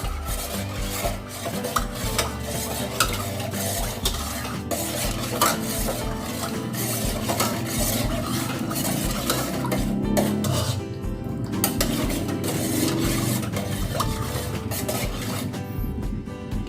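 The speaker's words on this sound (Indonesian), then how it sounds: "Kita aduk-aduk." A spoon scrapes and clinks continuously against a pot or bowl while stirring a pineapple jelly mixture with squeezed citrus juice, a busy, close rubbing and clattering sound.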